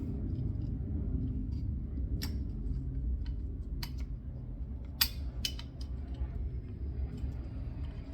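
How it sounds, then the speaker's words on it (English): A retaining pin pushed through a trigger assembly with a punch, several sharp metallic clicks and taps close by over a low steady rumble, with no talking. "I use a punch here. I just send it on through, and I just take my retaining pin that I had and just slide it right on through."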